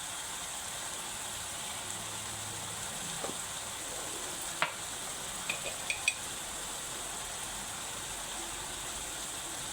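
Ginger garlic paste sizzling in a pot for a mutton curry, a soft steady hiss with a few sharp clinks and scrapes of stirring near the middle, no voices.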